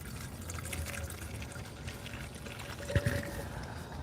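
Premixed leaf-blower fuel pours from a quart bottle with a funnel top, a steady close liquid pour and gurgle throughout, with a couple of small knocks near the end.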